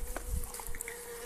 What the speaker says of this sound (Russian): этих пчел я закрываю, закутываю, утепляю